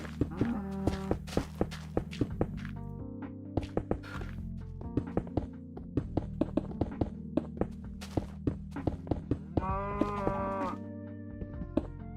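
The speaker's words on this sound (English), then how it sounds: "Wow, these cows are loud." Video game cattle moo repeatedly in long, harmonic lowing calls, fairly loud, over a steady low drone with scattered sharp knocks and thumps.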